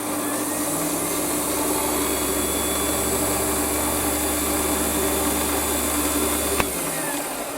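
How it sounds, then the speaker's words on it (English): A WARCO WM180 lathe faces off a small part, giving a steady motor whine with a constant cutting hiss, a sharp tick near the end, and no voices. "lock my carriage off and face it off to 7mm"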